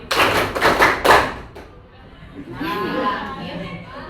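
A high school class claps in a rhythmic clap-five pattern: several loud, quick hand claps close together, then a voice speaks while the room murmurs.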